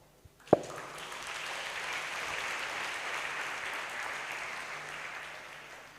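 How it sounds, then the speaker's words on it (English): Students and guests at a police academy school seminar applaud the presenters after a single thump: a steady, even wash of clapping that lasts several seconds and slowly fades. "Let's give a big round of applause."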